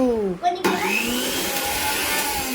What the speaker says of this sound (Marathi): असिस्टंट अदिती पालवे मिक्सर आमचा लावती का रिपेअर केलंय